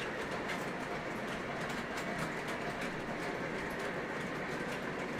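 A MTH Premier E8 model train runs steadily nearby, giving a continuous rolling rumble with faint rhythmic clicking of wheels over track joints and no voices.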